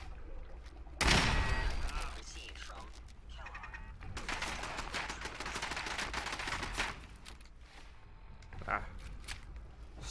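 Bursts of gunfire from a gun in the video game Fallout 4, with a loud opening volley followed by sustained rapid firing and a later short burst, with a voice talking at times.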